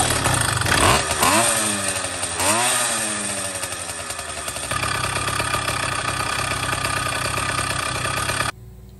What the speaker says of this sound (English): go start the bike up and let it run until it warms up completely